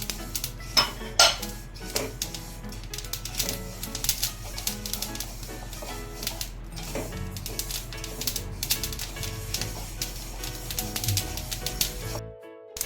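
Sesame seeds dry-roasting in a kadai with no ghee or oil: busy, continuous rattling and scraping of a utensil against the metal pan, with rapid clicks and occasional louder knocks.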